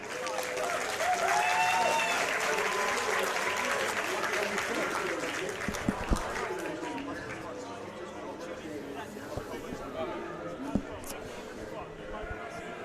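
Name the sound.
applause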